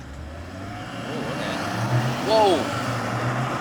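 Petrol Mazda CX-60 launching hard in sport mode from a standstill, a steady low engine drone that swells as it pulls away, with a brief startled exclamation from a person inside the cabin.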